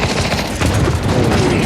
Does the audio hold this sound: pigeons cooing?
no